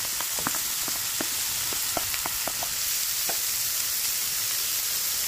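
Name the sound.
garlic and onion sautéing in a pan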